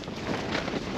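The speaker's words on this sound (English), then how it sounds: "This wind's going crazy now." Strong winter wind roars and buffets steadily outside a Terra Nova Pioneer 2 tent at night on a Shropshire wild camp, a dense, unbroken rushing noise close to the microphone.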